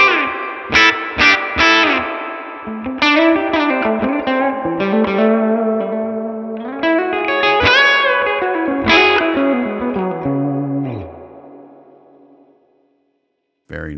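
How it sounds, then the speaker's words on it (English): Electric guitar through an IK Multimedia Mesa/Boogie amp model with dramatic, heavy reverb: sustained distorted chords and notes ring out with a long wash of echo tail that fades to near silence, then a brief loud burst at the end. "How dramatic does this reverb get?"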